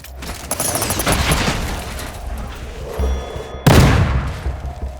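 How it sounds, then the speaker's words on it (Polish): A vehicle blows up during a Ground War match in Call of Duty: Modern Warfare II, with a heavy boom followed by a second sharp blast amid crackling gunfire and rumbling debris. "Zobaczcie na tym materiale, co stanie się z drzwiami pojazdu po jego eksplozji."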